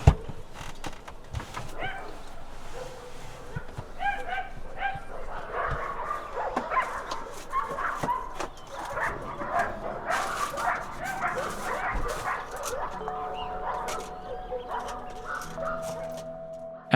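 Several dogs bark and yip repeatedly at mid distance in rural Sierra Gorda, Mexico, with a rooster or fowl also sounding amid a busy outdoor backdrop.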